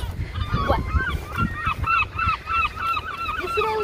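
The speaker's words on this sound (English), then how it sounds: "And you can probably hear all the birds." Geese honk repeatedly outdoors on wet streets just after rain, a steady run of calls over low rumbling traffic-like background noise.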